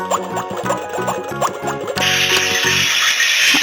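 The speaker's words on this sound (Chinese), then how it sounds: "炒菜的声音" A Peppa Pig toy stove plays its electronic stir-frying effect at close range, a string of bubbly pops over a tinkling melody that switches halfway to a loud, steady sizzling hiss, with no voices.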